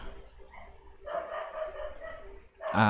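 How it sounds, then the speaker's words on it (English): A dog barks and yelps in the background indoors, drawn-out cries building to a louder, sharper bark at the end over a faint room hum. "Nothing much I can do about the dog barking in the background."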